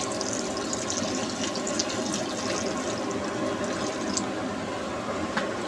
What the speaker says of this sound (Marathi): थोडंसं अजून पाणी टाकूया त्याच्यात